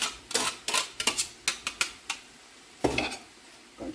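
A utensil stirs broccoli into caramelized onions in a cooking pan, a series of sharp clinks and scrapes in quick irregular bursts, then a pause and a couple more knocks, close and clear with no talking.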